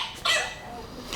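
A small puppy gives a short high-pitched bark or yelp, close and fairly loud, followed by a fainter second yip.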